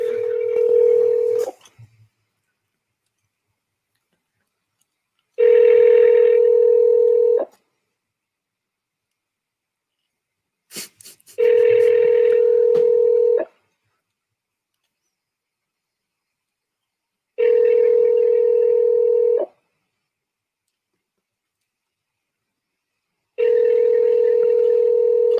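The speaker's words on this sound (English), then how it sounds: "I have his cell phone number. I'm just gonna give him a ring. 1 second. I'll put him on speaker so you guys can hear too." A cell phone call placed on speakerphone: five long, steady ringback tones about two seconds each, repeating evenly with quiet gaps between them, loud and close, with no talking.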